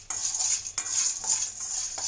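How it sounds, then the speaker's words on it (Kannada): Pumpkin seeds are stirred as they fry in a pan, with a spatula scraping close by and a few distinct knocks against the metal amid a soft continuous rustle. "ಕುಂಬಳಕಾಯಿ ಬೀಜ ಫ್ರೈ ಮಾಡ್ತೀನಿ."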